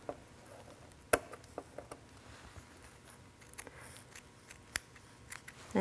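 Sharp, crisp snips of scissors trimming a fabric zipper tab, a few irregular clicks spaced apart in a quiet room.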